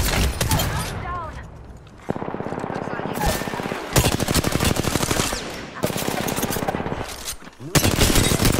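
Apex Legends gunfire, loud, close bursts of rapid automatic fire with a rattling rhythm, repeated several times with brief pauses, over game battle noise and voices talking.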